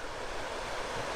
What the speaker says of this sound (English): The water's coming down through that.